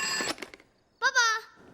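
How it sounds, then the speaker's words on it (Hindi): A telephone bell rings in a short harmonic burst at close range, following a moment of a child's and adult's voices speaking over household background. "अरे पापा का फोन"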